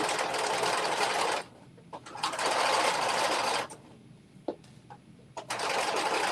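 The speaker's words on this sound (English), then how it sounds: "before I sew over it" A sewing machine stitches over a fabric strap in loud, fast bursts, stopping and restarting several times with quiet pauses between runs.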